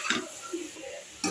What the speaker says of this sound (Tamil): அந்த பச்சை ஸ்மெல் போகிற வரைக்கும் 2 மினிட்ஸ் வதக்கிக்கலாம்